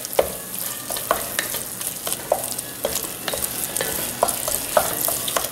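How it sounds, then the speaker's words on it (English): Tomato paste and garlic fry in a hot pan while a spoon stirs briskly, producing a constant sizzle punctuated by frequent clinking scrapes against the metal, close and without speech. "We're roasting that tomato paste and getting that garlic and everything."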